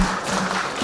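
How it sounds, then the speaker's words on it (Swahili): Brief, diffuse applause from a seated crowd at an Open University of Tanzania alumni day in Dodoma, a soft continuous wash of clapping heard from a distance. "Makofi ya kutosha kabisa mpaka atakapokaa"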